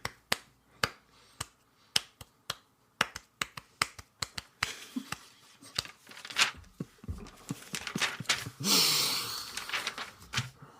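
Sharp, evenly spaced hand claps beating out a steady rhythm up close, growing busier and mixed with other noises toward the end.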